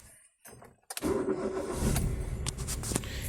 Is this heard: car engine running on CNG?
yes